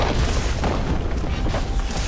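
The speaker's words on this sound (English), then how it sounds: "Red Team's turret has been destroyed." A turret being destroyed in the video game League of Legends: a deep rumbling boom with crumbling debris, steady and fairly loud for about two seconds.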